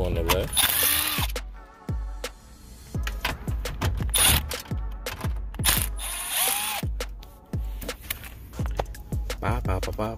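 A ratchet backing out 7mm screws that hold the radio in a 2006 Chevy Colorado dash, its rapid clicking pawl running in repeated close bursts under someone talking.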